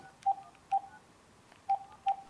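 Telephone keypad tones as someone dials while job hunting, four short clear beeps in an uneven rhythm, close and alone over a quiet background.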